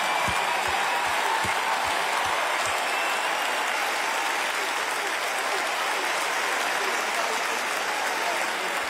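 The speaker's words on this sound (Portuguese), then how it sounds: "um grande aplauso para Filipe Marteau" A party crowd claps steadily in sustained applause for a friend at a thirtieth birthday celebration, dense and continuous throughout with a few low thumps near the start.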